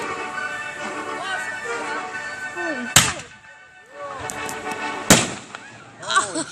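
Two-inch mortar shell fireworks burst in two sharp, loud cracks a couple of seconds apart, with crackling after, while excited voices chatter and shout nearby throughout.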